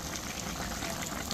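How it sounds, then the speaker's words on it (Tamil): Milk being poured into a pot of boiling mutton, giving a steady bubbling, liquid rush that holds at an even level throughout, with no talk. "எடுத்து வச்சிருக்கிற பாலை விட போகிறேன்"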